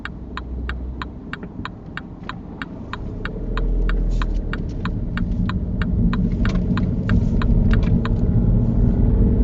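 A car engine hums as a learner driver applies gas and lifts the clutch to move off, the low rumble swelling and holding steadier while a regular ticking indicator clicks along steadily over it.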